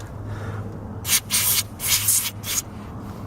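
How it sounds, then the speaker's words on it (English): Short aerosol bursts of cleaner sprayed onto the ignition coil connections of a Chevrolet Cavalier during misfire repair, three or four close hissing blasts over a low engine-bay hum. "So we're going to spray this out here."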